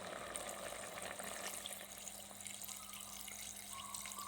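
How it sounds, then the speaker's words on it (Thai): Water being poured into a pot of bamboo shoot chicken curry, a faint steady trickling, running sound with a low background hum. "วันนี้เขาก็จะเพิ่มเติมน้ำของเขาลงไปเลยด้วยจ้ะ"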